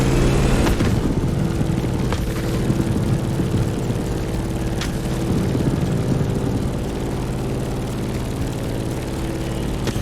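A propeller airplane drones steadily and loudly in The Crew Motorfest while flying through turbulence, a continuous engine roar with a few faint clicks and thumps over it.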